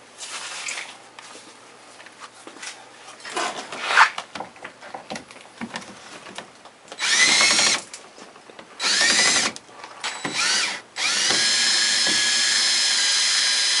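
Battery-operated screwdriver driving screws in several separate bursts of whirring, the later ones longer and steadier, with quiet handling noise and light rustling in between.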